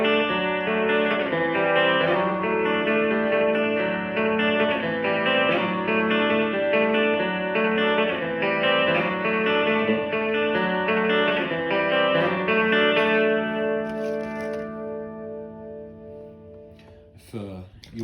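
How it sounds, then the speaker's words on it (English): An electric guitar runs through a Visual Sound Dual Tap Delay pedal set for a reverb-chorus sound, playing sustained shimmering chords with a washy tail that fades out near the end, with no one talking over it. "So there's like a little bit of like a kind of reverb effect almost."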